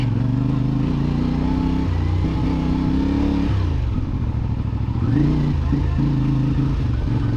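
A CFMoto 450MT motorcycle engine idling and pulling at low revs on a mountain road, a loud steady throb with a brief dip and revving change midway, close and continuous.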